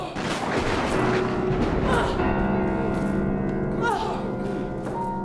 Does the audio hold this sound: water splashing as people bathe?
no